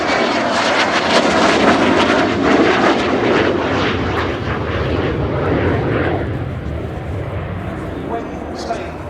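A Spanish Navy EAV-8B Harrier II+ jet roars loudly through a flying display at RIAT 2024, its engine noise broad and sustained before easing slightly as it passes, with a voice talking over it.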